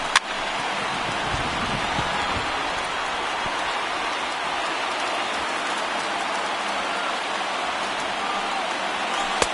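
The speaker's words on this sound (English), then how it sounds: "the rain starting to intensify here. It's coming down a little heavier now." Heavy rain pouring down on a baseball ballpark in the video game MLB The Show 19, a steady, dense hiss with no let-up, with faint crowd-like noise beneath.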